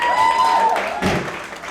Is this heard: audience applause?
yes